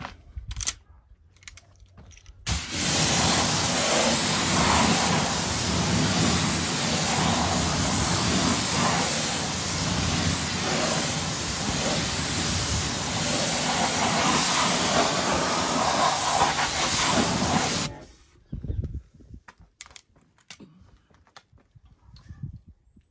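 A car wheel rinsed with water, a loud steady hiss of spray that starts abruptly, holds strong for about fifteen seconds and cuts off, with quiet handling sounds before and after.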